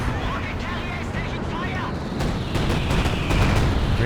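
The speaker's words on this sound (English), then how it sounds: "No dodging on the airstrike at the moment from these units" Airstrike explosions rumble through a Company of Heroes 2 match, a dense, loud roar of booms and gunfire layered with battlefield noise that swells toward the end, with a commentator talking over it.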